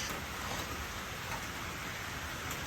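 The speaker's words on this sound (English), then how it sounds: "here comes some more of that pouring rain" Heavy rain pours steadily, a dense continuous hiss without breaks, close and fairly loud.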